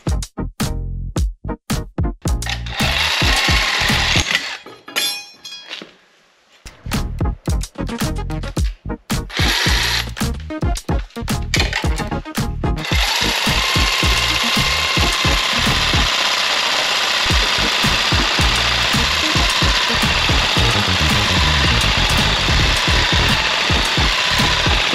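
Jigsaw cutting a wood fibre insulation panel, loud buzzing saw in stuttering bursts with brief pauses, then a long steady continuous cut, close and alone.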